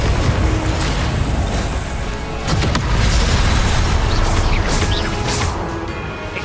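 Confringo spell explosions in Hogwarts Legacy burst out as repeated booming crashes in a dense, loud, continuous barrage of impacts.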